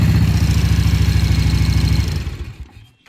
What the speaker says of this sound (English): she's got a couple of Harley shakes to her, but we love this bike